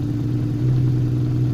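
A Honda CBX motorcycle engine idles steadily at around 1300 RPM, a close, loud, even low rumble with a faint mechanical clatter and no voices.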